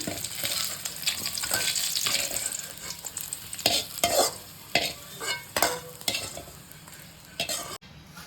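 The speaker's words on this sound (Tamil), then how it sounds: "நல்லா எண்ணெயில் வதக்கி வெங்காயத்தெல்லாம் தனியாக எடுத்து வச்சுக்கலாங்க" Onions sautéing in hot oil in a pan for a mutton lung gravy, with a steady close sizzle and repeated scraping stirs of the spatula against the pan.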